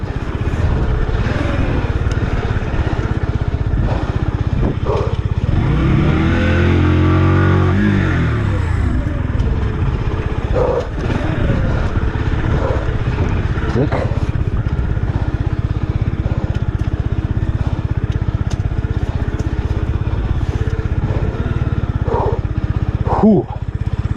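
Motor vehicle engine revving after being knocked out of gear, a loud swelling rev that rises and falls over a few seconds above a constant rumble, with people talking throughout.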